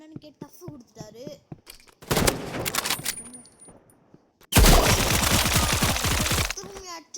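Rapid bursts of gunfire in a shooting video game with a sniper player, loud and sustained: one long volley around the middle and a heavier, denser burst near the end, with faint voice-like sounds before them.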